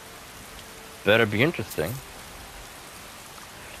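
Steady rain falls in Skyrim, a soft continuous wash of drops throughout, with someone briefly talking over it partway through.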